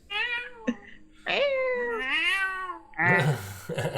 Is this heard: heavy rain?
no